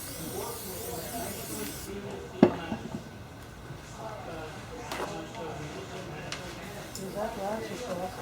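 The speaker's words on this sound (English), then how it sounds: "So what I'm going to do is I'm going to spray it." Broad hissing from a spray nozzle spraying onto glass while making plaster molds comes in short bursts around ongoing speech, with a sharp click near the start of one burst.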